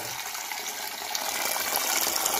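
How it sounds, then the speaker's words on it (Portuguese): Tap water running steadily into a cooking pot, filled for boiling two eggs; a continuous close, bright rushing stream with no pauses, growing slightly louder toward the end. "Aí enche aqui. Não precisa botar muita água, porque são dois ovos."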